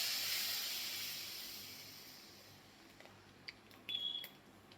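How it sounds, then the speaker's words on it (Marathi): Khandvi batter poured into a hot kadhai sets off a loud, broad hiss that slowly fades, followed by a few faint clinks near the end. "आता आपण हे मिश्रण या कढईमध्ये ओतायचं आहे."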